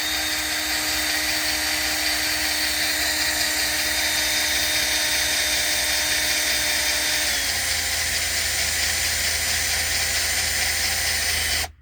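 A restored Cadillac Eldorado convertible top gear box actuator motor runs in a loud, steady high whine, its pitch dropping partway through, then cutting off abruptly at the end.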